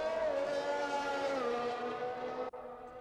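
A race car engine in an Xbox racing game at the Bahrain circuit holds a sustained, fairly faint buzzing drone at steady pitch, then cuts off abruptly near the end.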